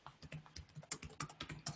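Someone types quickly on a computer keyboard at close range, each keystroke a crisp, irregular click, and no one speaks.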